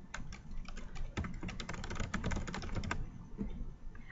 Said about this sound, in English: now up top I can type in my question